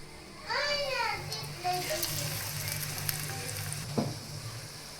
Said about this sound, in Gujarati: ખાલી તેને બંને સાઈડથી ક્રિસ્પી થાય એ રીતે તેલમાં શેકવાની છે